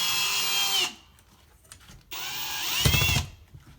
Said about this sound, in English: So I have my drill, and this will be the test to see if we really found the stud or not